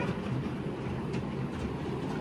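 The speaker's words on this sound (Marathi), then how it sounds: "किती भारी ट्रेन आहे ना." A train runs on its rails with a dense, steady low rumble and rattle that holds at an even level throughout, heard from inside and with no voices.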